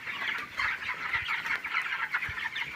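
Dense chorus of broiler chickens about twenty days old clucking and chirping together in a poultry farm shed, a continuous busy chatter at moderate volume with no speech.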